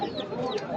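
Chickens at a livestock market cluck in short, faint bursts against a busy crowd background, with a brief rising call partway through.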